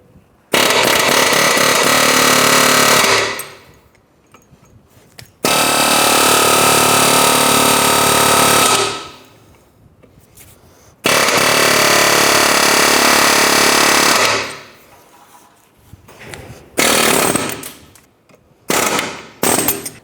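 Pneumatic air hammer with a pointed tip driving out a ball joint rivet on a 2006-2013 Chevrolet Impala front lower control arm, loud rapid hammering in three long bursts separated by pauses, then a few short blasts.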